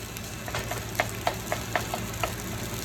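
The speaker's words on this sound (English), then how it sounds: "In the process of frying the rice." Shrimp fried rice sizzling and frying in a hot wok at home, a steady crackle broken by sharp, regular scrapes and stirs of the spatula every fraction of a second, close and fairly loud, with no talking.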